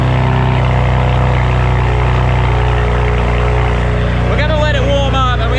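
A BMW E92 335i with the N54 engine and newly fitted downpipes idles with a loud, deep, steady rumble close by, and a voice speaks briefly over it near the end.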